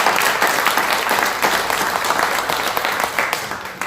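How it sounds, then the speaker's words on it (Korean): A congregation claps in a church during an evening worship service, a dense, lively burst of many hands close by that stays strong and slowly tapers over a few seconds. "역시 우리 격려 박수 한번 더 합시다"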